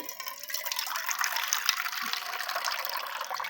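Water poured into a bowl of lemon juice and turmeric powder for mixing makes a steady, close splashing pour that runs unbroken throughout, with no talking.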